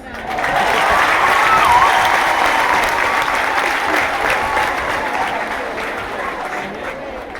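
Loud, sustained applause from an audience honoring a second-year primary schoolgirl from Fatima primary school at a Heroes' Day ceremony in Musanze, Rwanda; dense clapping swells early and then holds steady with a faint crowd murmur.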